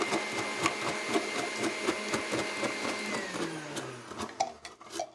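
A vintage Oster Kitchen Center food processor runs a julienne blade through carrots, giving a steady motor whir with rapid rhythmic chopping clicks, then the motor winds down near the end.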